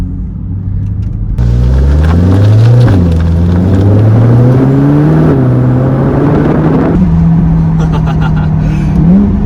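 A Nissan GT-R engine revs hard up close through a new exhaust, its pitch climbing in surges before settling into a loud, steady rumble.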